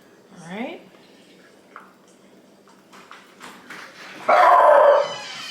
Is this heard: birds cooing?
no